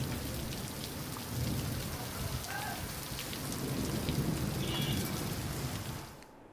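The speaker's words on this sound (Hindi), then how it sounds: "तेज गरज चमक के साथ यहां बारिश हुई है" Steady heavy rain pours down in Sendhwa during a thunderstorm, a dense continuous hiss with a low rumbling undertone of thunder, loud and close throughout before fading out at the very end.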